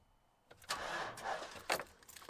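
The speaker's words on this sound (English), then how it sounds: "the battery is not starting the truck" A truck with a dead battery tries to start: after a quiet moment, a near, fairly loud burst of engine and electrical noise comes in two surges, with a faint clink between them, and the engine never catches.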